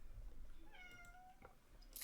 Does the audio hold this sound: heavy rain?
no